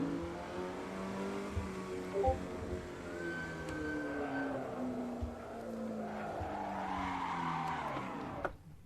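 A modded race car in Assetto Corsa at Brands Hatch Indy revs and shifts through rising and falling engine pitches while its tyres squeal and skid in long stretches, steady and moderately loud throughout.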